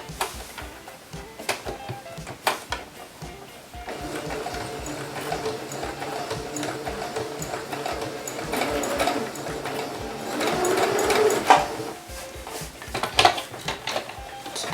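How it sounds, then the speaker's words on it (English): Sewing machine stitching fabric around a rubber band for a scrunchie, a steady rapid mechanical chatter with brief stops and restarts as the fabric is adjusted, fairly close and moderately loud, no talk. "And then you just want to keep sewing."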